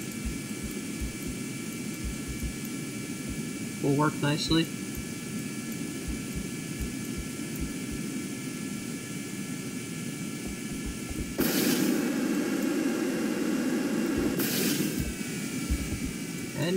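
A jet engine in Kerbal Space Program drones steadily as an aircraft thrusts for a vertical landing, with louder bursts of engine roar and someone speaking briefly over it.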